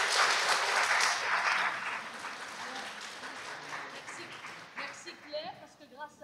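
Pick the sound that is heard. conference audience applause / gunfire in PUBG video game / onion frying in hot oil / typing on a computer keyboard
conference audience applause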